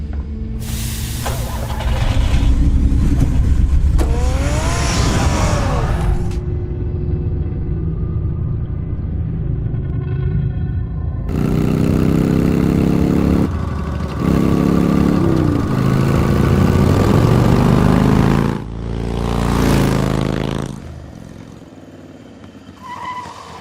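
The Batmobile in the Telltale Batman game drives off with a loud, continuous engine rumble and roar that rises and swells, then fades near the end.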